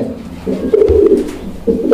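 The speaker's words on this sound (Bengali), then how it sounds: "আর এইসব কবুতর ভাই ডাকে ভাই" Pigeons at a breeder's loft coo in low, throaty rolling calls, several overlapping bursts close by and fairly loud over a faint background hum, with no one speaking.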